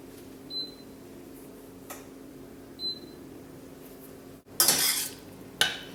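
A spoon stirs coconut oil melting in a pan for granola, giving a few light metallic clinks and a brief scraping rustle against a quiet background.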